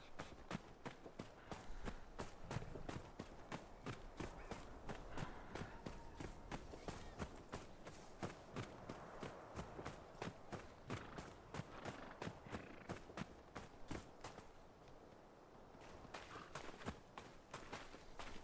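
Rapid, steady clip-clop of horse hooves at a gallop in the video game Dragon Age: Inquisition, continuous and fairly quiet, with a faint snort or whinny partway through.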